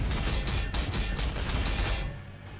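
Gunfire from units shooting in the strategy game Warhammer 40,000: Sanctus Reach, a loud, dense rattle of rapid shots for about two seconds that then cuts off into quieter tail noise.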